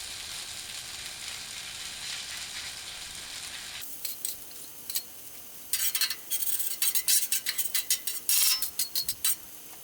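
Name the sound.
hash browns sizzling on Blackstone griddle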